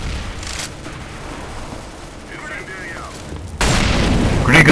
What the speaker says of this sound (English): Grenade goes in.